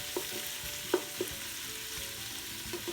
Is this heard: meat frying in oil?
yes